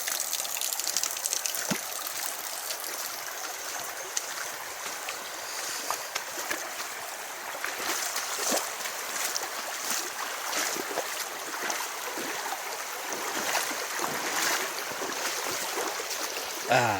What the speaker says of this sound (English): Right where the water is really flowing here, it's a pretty deep trench.